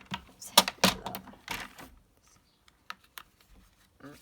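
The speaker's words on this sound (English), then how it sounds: "Trimmer is pretty useful. Things like that. Let's trim that off." A paper trimmer slices through a sheet of paper for a card-making project, giving a burst of scraping, clicking cuts followed by a few quieter ticks and taps close by.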